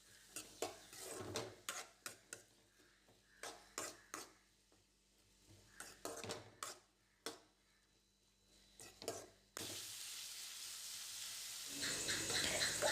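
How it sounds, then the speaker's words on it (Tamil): Finely chopped onions stirred in a pan for fish chukka, with repeated scraping strokes of a spoon against the pan in an uneven rhythm, then a steadier, louder sizzle that takes over toward the end. "வெங்காயம் நல்லா பொடிசாக கட் பண்ணதை எடுத்து நல்லா வதக்கிக்கோங்க"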